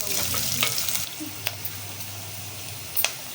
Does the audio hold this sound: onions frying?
yes